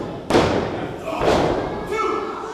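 A wrestler is body slammed down onto the ring mat at a live wrestling show, with heavy thuds and impacts under a commentator's voice and crowd noise.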